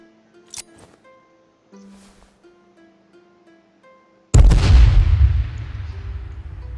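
A grenade in the survival game H1Z1 goes off with one loud, close boom that rolls into a long decaying rumble, following a few quiet clicks and game sounds.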